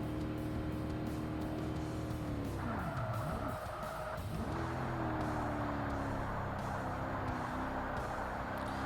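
Race car tires skidding as the wheels lock up in Forza Motorsport during a C Class endurance race: a continuous engine drone, then a loud high tire squeal lasting under two seconds, then the engine note dropping away and climbing back.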